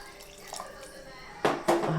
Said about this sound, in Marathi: त्याच्यामध्ये पाणी घालून घेऊया.